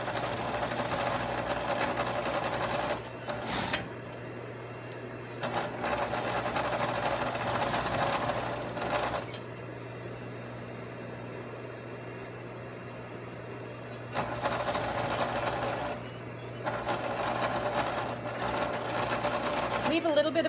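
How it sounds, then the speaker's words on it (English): A stretch-stitch sewing machine running a seam on a neck warmer, with steady whirring bursts of several seconds separated by short pauses, close and prominent, while a voice talks intermittently over the machine. "So you're just going to do your one seam"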